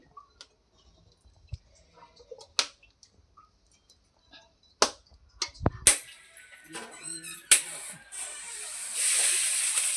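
Chopped onions hit hot oil in a kadhai, with scattered clicks and pops first, then a sudden loud sizzle that swells into a steady hiss.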